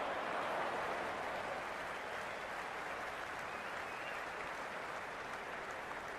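A stadium crowd in the Cricket 26 video game cheers with a steady, dense roar from the stands that holds at an even level throughout, with no voices standing out.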